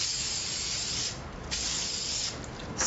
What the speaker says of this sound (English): spray it on the paper.